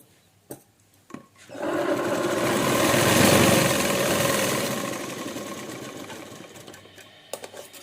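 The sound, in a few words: sewing machine stitching blouse pleat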